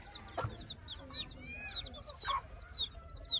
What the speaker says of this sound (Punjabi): ਜਿੱਥੇ ਜਾਂਦੀ ਮੁਰਗੀ ਪਿੱਛੇ ਚੂਜ਼ੇ ਹੀ ਨੇਗੇ